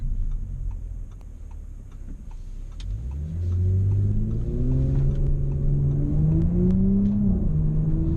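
A 2018 Audi S5 Sportback Prestige S-sport with quattro all-wheel drive and a ZF eight-speed automatic accelerates hard from a steady rumble, its engine note climbing loudly through rising harmonics with a gear change near the end.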